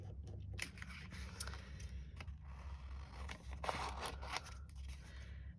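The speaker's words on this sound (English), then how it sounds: "Grab our scissors." Crisp snipping of scissors cutting through paper, a series of close, irregular cuts with a steady low hum underneath.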